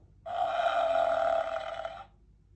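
Electronic buffalo sound from an Eric Carle 30-button animal sound book: a single low, buzzy grunting bellow lasting about two seconds, played alone and fairly loud.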